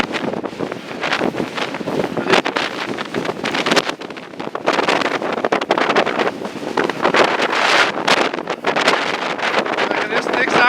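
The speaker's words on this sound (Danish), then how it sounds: "Jeg kan næsten ikke snakke under blæsten" Strong wind buffets the microphone outdoors near a road and stream where a bridge has gone, roaring and rumbling loudly and continuously throughout with gusting surges.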